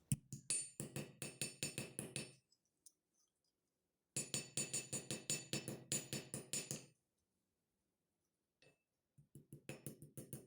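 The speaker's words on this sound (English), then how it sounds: "You're going to come in with your little hammer and flatten it because it dents in there a little bit." A small jewellery hammer flattens a copper envelope pendant in rapid, even taps, two long runs of sharp metallic strikes separated by a pause, then a few more blows at the end, close and clear.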